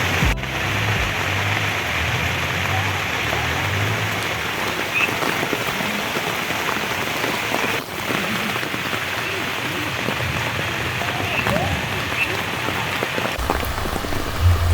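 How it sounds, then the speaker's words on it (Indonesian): Heavy rain pours steadily onto a tent at a campsite in a tea plantation, a dense continuous hiss and patter close by with no pauses, loud and unbroken throughout. "Ini hujan deras banget."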